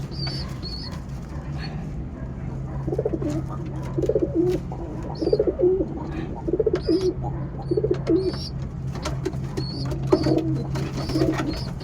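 Pigeons coo in a repeated, rhythmic pattern from close by, each phrase a soft throaty burst, over a steady low hum and outdoor background noise.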